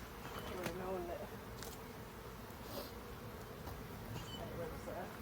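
Honey bees swarm and drone around an open hive during a hot June inspection, a steady close buzz with a person's voice speaking intermittently over it.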